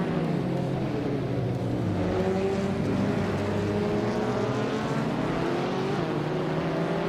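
Engines of several video-game race cars, including a 2014 Abarth 500 Assetto Corse, roar together at the start of a race on Autumn Ring Mini, a steady loud droning blend of revving motors throughout.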